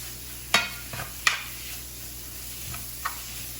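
Chicken pieces sizzle quietly in a frying pan while being stirred, with a few sharp utensil scrapes and taps against the pan.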